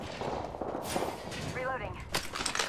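Gunfire in the Apex Legends video game comes in a few sharp bursts mixed with game effects, under a player's voice talking over it.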